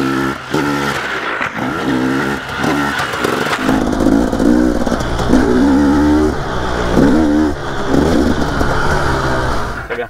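A motorcycle engine revs hard at full throttle in third gear, loud and close, its pitch climbing and dropping in repeated surges across the stretch with no talk over it.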